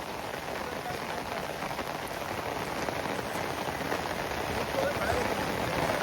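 Steady, dense rain falls on surfaces outdoors beside a stream, a constant close patter without letup, with voices faintly present beneath it.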